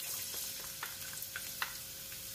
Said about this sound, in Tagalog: igisa natin yung garlic.